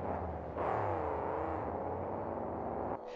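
Monster trucks race down a concrete drag track at a 2000 KORR Monsters finals event, a loud, steady engine roar and whir holding for about two and a half seconds before cutting off abruptly.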